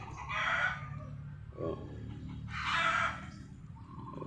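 Breeder chickens in a pen: two loud rooster crows close by, separated by a brief cluck, over a low background murmur.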